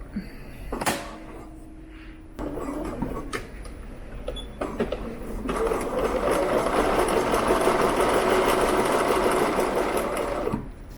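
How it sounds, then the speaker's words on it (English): A sewing machine topstitches a linen pullover top a quarter inch from a fold. It runs in brief bursts and stops at first, then holds a steady, close, continuous whir for about five seconds before halting. "I'm going to come along and top stitch about 1/4 of an inch away from this fold line"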